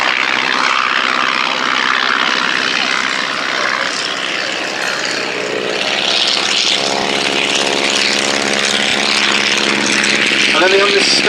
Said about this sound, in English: First of all, the Sopwith variant.